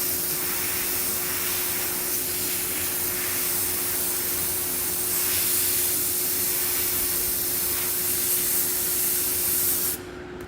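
Airbrush spraying paint on skulls, a steady close hiss of air and paint running nearly unbroken for about ten seconds, with a constant low hum beneath it before it cuts off.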